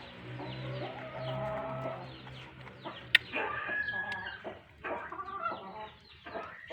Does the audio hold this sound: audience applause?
no